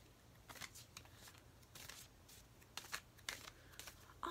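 Soft, close bursts of playing cards being shuffled with the off hand, several riffles and rustles at uneven intervals against quiet room tone.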